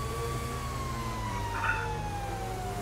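Fire truck siren in GTA V, a steady wailing tone sweeping slowly downward over a constant low engine rumble, continuous and fairly loud throughout with no talk over it.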